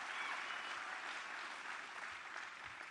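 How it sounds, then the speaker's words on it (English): Crowd applause at a JD Vance campaign rally in Eau Claire, a sustained wash of clapping from a large audience heard at a distance, fairly quiet and even throughout. "Give James a round of applause"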